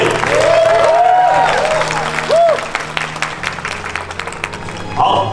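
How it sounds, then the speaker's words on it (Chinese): Guests at a wedding ceremony applaud and cheer loudly right after the vows, a dense burst of clapping with some whistles, while a voice speaks over it. "掌声尖叫来一点。"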